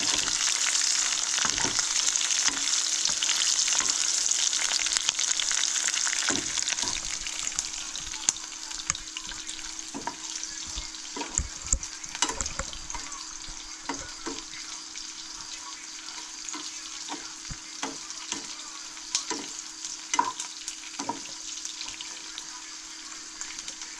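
Grasshoppers deep-frying in hot oil give a steady, close, loud sizzle with scattered crackles and clinks, the frying fading a little over time; faint talk may sit underneath.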